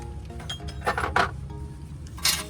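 A 21 mm wrench picked up from a set during a BMW 7 Series CV axle boot job gives a few light metallic clinks and taps, close by and brief.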